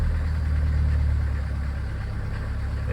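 An old Mercedes 307D van's diesel engine idling just after a cold start, a steady low clattering rumble close by, with a slight rise early on as it is given a small rev, no talking.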